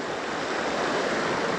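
A river stream in the Utah wilderness rushes along its pools with a steady, moderate wash of flowing water and no voices.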